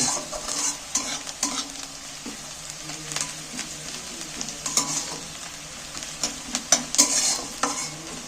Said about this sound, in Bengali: নাড়াচাড়া করতে করতে অনেকটাই ভাজা হয়ে গেছে